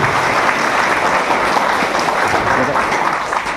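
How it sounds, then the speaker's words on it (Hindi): An audience at an AWPL achievers' celebration gives a dense, loud, continuous round of clapping that fills the whole moment and eases off slightly toward the end. "तो एक बार जोरदार तालियां परम पिता परमेश्वर के लिए"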